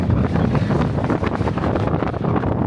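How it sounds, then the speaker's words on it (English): Strong gusty wind buffeting a microphone on a Pyrenees mountainside during a hike from France into Spain, loud rough rushing with uneven surges and no speech. "Suddenly the wind is blowing."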